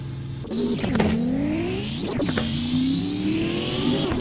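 Pegasi GTO sports car engine in a video game revving up repeatedly, its pitch climbing and dropping with quick shifts, loud and close with no talk.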